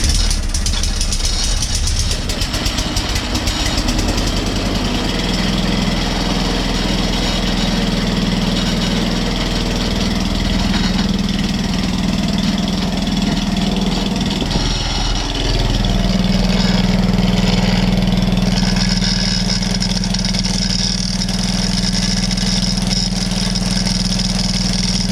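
An Atco Balmoral reel mower engine, choked, starts up and runs steadily at a loud, close idle, with a rough chattering note throughout.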